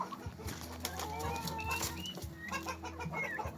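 Native turkeys feed on corn with soft clucks, pecking, and some flapping, close by. Birds chatter steadily under a low background hum.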